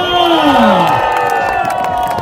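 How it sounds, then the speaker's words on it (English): A loud crowd cheers and whoops at the Mandalika World Superbike race for Alvaro Bautista's win, with rising and falling shouts over a dense roar of voices. "I'm sure we're going to get a pretty loud cheer now"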